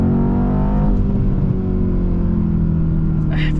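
A 2019 Mercedes-Benz C63 S AMG pulls hard in second gear, its engine a loud, steady, close roar with a low rumble that holds through the run, and a voice speaks over it.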